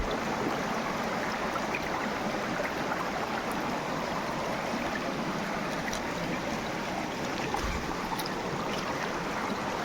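A river swollen with water from the first monsoon rain: a steady, rushing wash of flowing water, close and continuous, with a few faint knocks and splashes and no talking.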